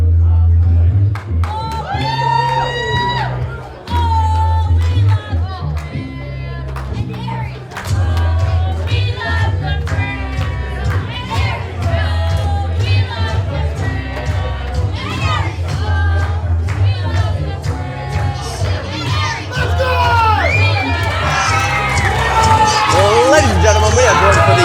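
Crowd noise rises as wrestler Big Keezy B comes through the curtain at a Halloween wrestling show, with loud excited hubbub and shouting sustained throughout under a steady low hum of music.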